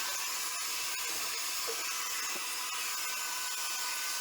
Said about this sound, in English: You just want to get all the debris up with the shop vac